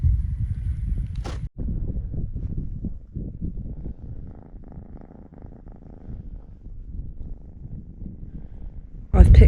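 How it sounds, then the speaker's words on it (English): A small hitchhiking cat purrs steadily and loudly, close up, a low continuous rumble with faint wind and movement noise around it, next to a beach town in Kyrgyzstan. "he's purring like mad, so he can stay"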